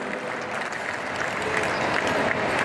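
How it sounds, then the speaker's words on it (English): Audience applause at the Mall of America pow wow, a steady wash of clapping from a crowd that swells slightly louder toward the end, heard alone without voices. "thank you for that applause"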